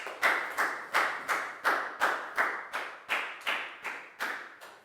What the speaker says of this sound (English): High five and a big round of applause for Pak Bung, please, guys.